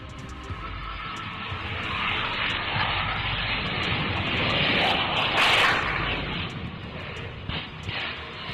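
A CF-18 fighter jet with engine trouble roars at low altitude during airshow practice, a loud, steady broadband rush that builds and peaks midway before easing.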